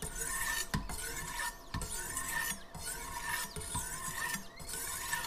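A Wicked Edge knife sharpener's stone grinds a blade in steady repeated scraping strokes with a raspy, squealing edge, close and continuous, broken by brief pauses between passes, with no talking.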